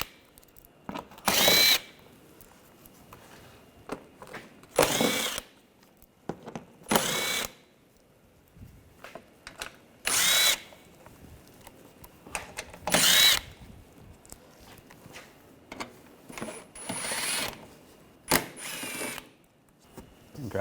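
A power tool fitted with an 8mm socket spins out screws from an underbody panel on a 2009-2013 BMW 328i xDrive, sounding as loud, close whirring bursts about a second long, repeated roughly seven times with short quiet gaps between.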